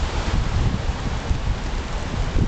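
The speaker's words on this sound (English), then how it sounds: "Oh, now it's a lot of rain coming." Heavy rain sweeps in across a sandy golf outing, a dense, steady hiss with low buffeting wind rumble and no talk.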